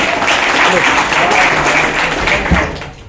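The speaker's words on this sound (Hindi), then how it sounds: "उनके लिए तालियां हो जाए" Audience applause at a Republic Day celebration program, a steady dense wash of clapping that fills the whole stretch, with some voices mixed in and a slight fade at the end.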